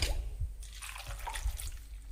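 Water poured into a pressure cooker holding pineapple, plantain, green chillies and salt for an Onam pineapple pachadi, heard as a short close dripping and splashing trickle that runs for about two seconds with no talk.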